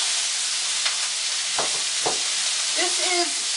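Lean grass-fed beef for fajitas searing in a hot pan, a loud steady hiss with a few short bursts of stirring and spattering.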